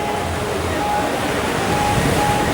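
Sea waves at full high tide along the Bashbaria coast give a loud, steady wash of surf, continuous and close throughout, blended with breezy wind noise.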